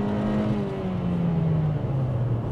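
Kia Cerato engine held at high revs in sport mode, a steady close drone with a smooth whir and gliding pitch changes as the revs shift, heard from inside the car with no talk.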